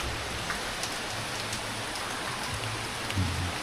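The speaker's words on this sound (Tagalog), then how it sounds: "Nag-uulan na naman." Steady rain pours outdoors during a typhoon with heavy fog, an even, continuous hiss of drops on surfaces at moderate volume, with no voices.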